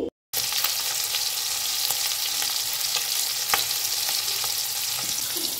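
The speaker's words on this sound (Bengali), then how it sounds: "চিংড়ি মাছটাকে হালকা ভেজে নিচ্ছি।" Shrimp frying lightly in a pan for a bottle gourd and shrimp curry, with a steady close sizzle and crackle throughout and a few louder pops and spatters, no talking.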